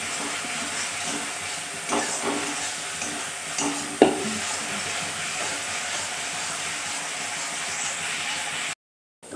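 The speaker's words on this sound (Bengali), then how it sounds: "তো মশলাটা প্রায় ভাজা ভাজা হয়েই গেছে" Spice paste with chili powder fries in a home kitchen pan, sizzling steadily and close by, with scraping stirs and a sharp knock midway before a sudden cut to silence at the end.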